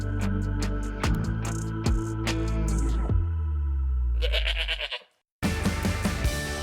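Goats bleat over a produced radio ad for a goat ranch's 10th annual stampede event, several wavering cries layered with music and effects, loud and close, ending in a brief silence before the mix resumes.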